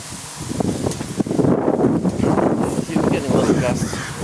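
Outdoor wind gusting across the microphone near a small wind-driven generator, a steady broadband rush that swells in strength, with someone talking over it.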